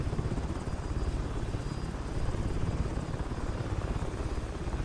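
MH-60L DAP helicopter in War Thunder, a steady, close rotor and engine drone with a rapid rhythmic thumping that holds unbroken throughout.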